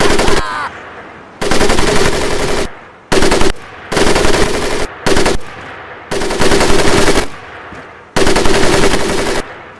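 Machine gun fire from the video game Medal of Honor Pacific Assault: loud, close sustained automatic bursts, about seven of them, each one to two seconds long and separated by short silences.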